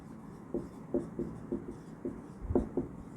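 A pen or chalk scratches across a board in short, rhythmic strokes, roughly six or seven taps and scrapes over a steady room hiss, close and fairly quiet.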